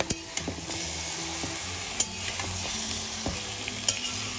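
Marinated chicken with ginger-garlic paste and onion goes into hot oil with whole garam masala spices for biryani, giving a steady sizzle broken by scattered light clinks and scrapes.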